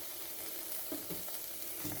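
Tomato paste fries with rice in a pan for Spanish rice, giving a steady, close sizzle with a few soft stirring scrapes and no talking.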